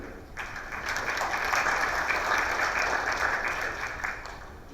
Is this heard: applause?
yes